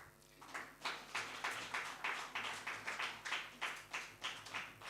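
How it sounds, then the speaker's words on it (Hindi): An audience at a Hindi youth gathering at the Nehru Centre claps in steady unison, a faint, even rhythm of beats about three per second, heard from a distance with no talk over it. "तालियां"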